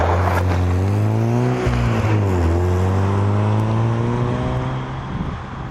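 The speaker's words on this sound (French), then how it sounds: "7000 tours, hein. Tu fais tirer la seconde, hein." A Fiat Punto HGT engine pulling hard in second gear toward 7000 rpm, its droning note climbing steadily from inside the car, loud and continuous, then easing slightly at the end.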